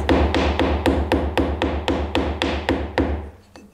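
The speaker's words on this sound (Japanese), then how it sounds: "この部分を木の繊維を金槌で叩いて潰してやります。" A hammer taps the face of a wooden joint piece to crush and compress the wood fibres while fitting a tenon for a handmade stool. About a dozen quick, even, close knocks ring out alone, the last ones fading off.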